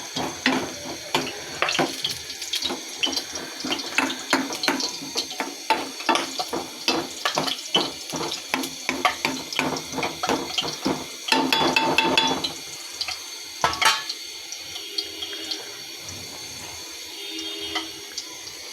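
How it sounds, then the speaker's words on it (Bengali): Egg with capsicum sizzling and crackling in hot oil in a pan, a dense continuous frying hiss with sharp pops, louder in bursts early on and settling to a steadier, softer sizzle toward the end. "ছেড়ে দিচ্ছি গরম তেলে।"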